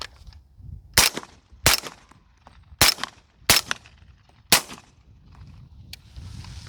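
Rifle fired through a DeadAir Sandman S suppressor, outdoors: five sharp suppressed shots at uneven intervals, each a loud crack with a short tail, followed by a quieter sixth click near the end.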